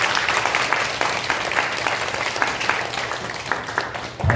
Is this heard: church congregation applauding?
yes